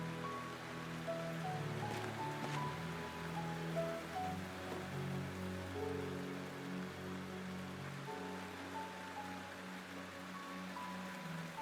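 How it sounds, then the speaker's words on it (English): Steady rain in the video game Tales of Graces F Remaster, a continuous soft hiss of falling water that holds at an even level throughout, with faint game music tones drifting underneath and no voices. "They actually have rain effects."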